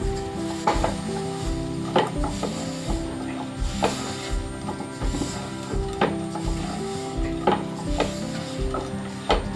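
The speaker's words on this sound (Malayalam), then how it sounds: "ഇതെല്ലാം കൂടിയിട്ട് പച്ചമണം പോകുന്നത് വരെ ഒന്ന് വഴറ്റുക." Garlic pickle ingredients sauté in hot oil in a pan as a spoon stirs them with repeated scraping knocks over a faint steady sizzle. The sound is close, and a low hum runs underneath throughout.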